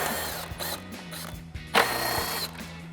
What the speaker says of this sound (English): we're going to grab our 10mm socket and take those out